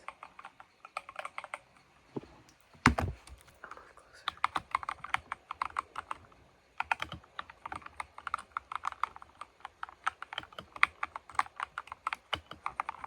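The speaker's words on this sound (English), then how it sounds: "And now I'm gonna do just some typing noises." Rapid clacky keystrokes on a mechanical keyboard rattle on close up, with one louder thump and a few brief spoken words early on.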